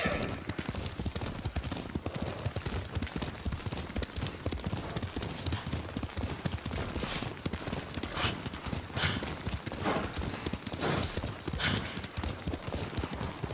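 Several horses gallop in Ghost of Tsushima, their hooves pounding in a steady, loud clip-clop rhythm that continues throughout, with occasional sharper bursts.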